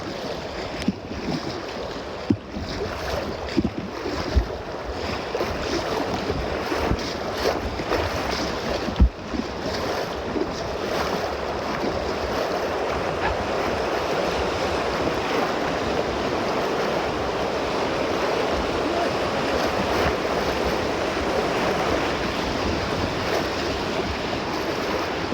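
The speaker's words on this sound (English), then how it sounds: "I'm paddling hard to the right." Packraft paddled through rocky river water in the Montana wilderness, a continuous close rush and splash of moving current with occasional knocks and paddle strokes, steady throughout.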